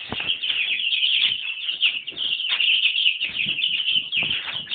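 Young chicks cheep steadily and densely in high, thin peeps, a near and continuous chorus with no speech.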